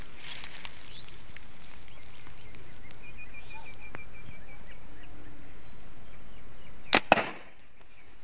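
A plastic slingshot fires at a target outdoors, giving a sharp snap and smack near the end after quiet ambience with faint distant chirps.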